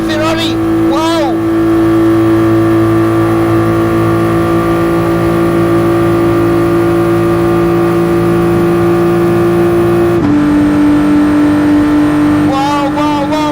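A Ferrari race car in Gran Turismo Sport holds a loud, steady high-pitched engine drone at sustained revs, shifting pitch once partway through, while excited voices talk over it.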